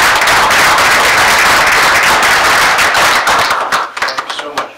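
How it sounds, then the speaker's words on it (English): Loud, dense applause from an audience at a borough council meeting honoring the fire chief, steady clapping that thins into scattered claps near the end. "we get a round of applause for the chief"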